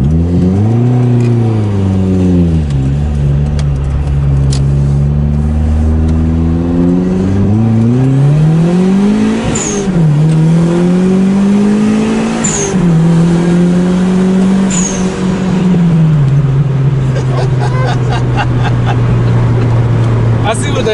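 A turbocharged DIY-boosted Mazda Miata engine revs hard while driving, a loud continuous drone that repeatedly climbs and falls in pitch with sharp turbo-like chirps, and a voice briefly heard at times.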